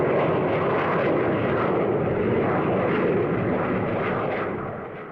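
A delta-wing jet aircraft in flight gives a steady, broad engine roar that holds level and then fades slightly at the end.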